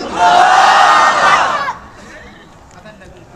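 A large crowd at a Bengali religious gathering roars a loud, unified takbir response for over a second, then the shout drops off abruptly into quiet murmuring.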